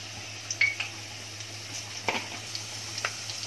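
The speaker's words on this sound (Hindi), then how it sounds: "ये तेल गरम करने रखी हूँ उसमें जाएगा पहले अपना लहसुन" Garlic dropped into hot oil in a home kitchen pan sizzles faintly and steadily, with a few light clinks of utensil against the pan and a low background hum, no talking.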